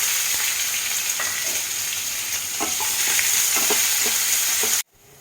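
Steady sizzling of chopped onions frying in a pan, with occasional stirring scrapes, running continuously and then cutting off abruptly near the end.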